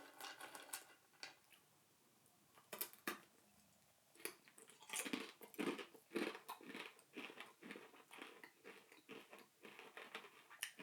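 Someone crunching on a crunchy sweet-and-salty Japanese snack, with quiet scattered bites at first, then a close cluster of sharp crunches and chewing.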